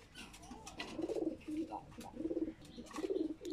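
Low, rolling coos from a Kaldam breed pigeon come in four or five close, repeated bursts, near and fairly clear, with no talking.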